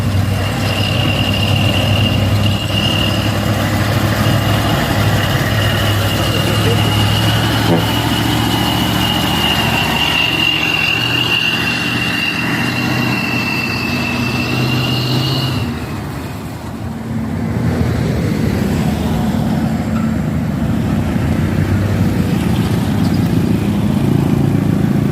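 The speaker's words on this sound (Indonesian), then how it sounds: "Truk Fuso coklat. Mudah-mudahan saja kuat ya teman-teman." A brown Fuso truck with smoking exhaust labors uphill, its diesel engine droning loud and steady, with a brief dip in power midway before the strained roar resumes.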